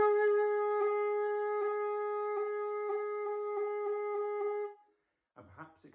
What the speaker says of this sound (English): tap my finger on and off the hole adjacent to it, so incredibly briefly sounding the note below